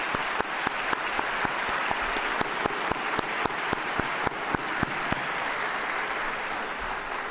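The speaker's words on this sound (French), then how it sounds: "Donc je pense qu'on peut applaudir cette convention." Steady audience applause at a children's rights concert in Geneva, a dense wash of clapping with a few sharp, distinct claps standing out close by, continuing evenly throughout.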